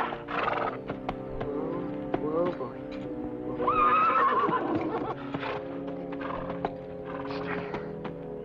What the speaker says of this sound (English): You might fetch my horse.